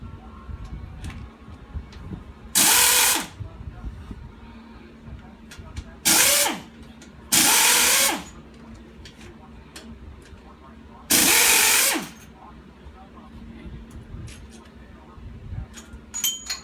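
Power drill or impact tool bursts on intake bolts of a Chrysler 3.5 engine during a rebuild: four short, loud whirring bursts of about a second each, separated by quieter workshop noise.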